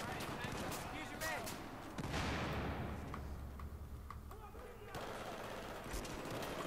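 Grenade explosions in Battlefield 4, a heavy rumbling blast followed by scattered distant bangs and gunfire in a busy battlefield, with a player talking over the noise.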